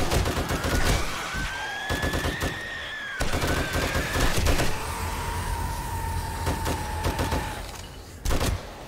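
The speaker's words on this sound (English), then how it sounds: "Not much range on this gun unless you aim. But that's to be expected for an M60." An M60 machine gun fires in bursts in the video game 7 Days to Die, loud and close, with rapid rattling volleys over several seconds and a final short burst after a brief pause.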